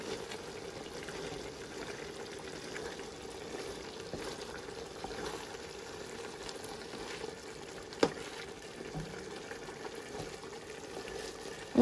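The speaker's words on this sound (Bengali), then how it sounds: "এখন আমি এটার মধ্যে সর দিয়ে তৈরি করে রাখা মালাইটা আমি এর মধ্যে দিয়ে দিব" A pan of Bengali wedding-style chicken roast simmers with a soft, steady sizzle as prepared malai cream goes in, giving a low, even bubbling hiss with one faint clink partway through.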